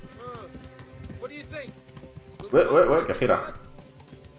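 Hooves clip-clop as a horse is ridden in the medieval video game Kingdom Come: Deliverance, a loud burst of rapid hoofbeats midway through, with someone talking over the game sounds before it.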